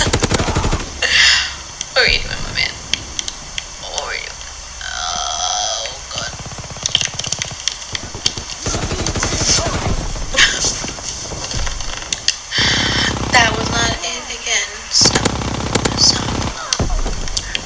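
Repeated bursts of gunfire from Call of Duty WW2 crack through the game, with sharp single shots and rapid automatic volleys arriving in irregular clusters. Some stretches are busy and loud, and shorter pauses fall between them.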